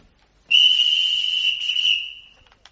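A police whistle gives one sustained shrill blast of about two seconds, loud and close, then tails off. No one speaks over it.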